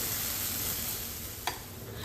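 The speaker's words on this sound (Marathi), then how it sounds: "ही फोडणी अगदी छान अशी तेल सुटेपर्यंत आपल्याला परतून घ्यायची आहे" Fasting-dish tempering sizzles steadily in hot oil in a pan, a constant close hiss with one brief sharp crackle partway through, and no talking.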